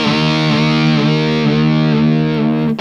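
An electric guitar played through full distortion holds a loud, sustained, buzzing chord, with subtle wavering pitch from the whammy bar before it cuts off abruptly near the end.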